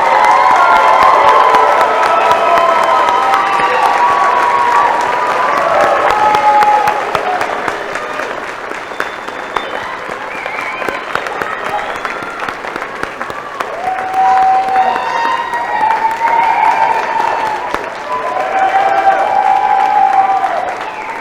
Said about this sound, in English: asks the guests in attendance to have some applause